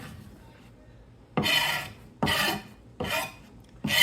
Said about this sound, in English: I will have to flip and chop so that we don't have long strings of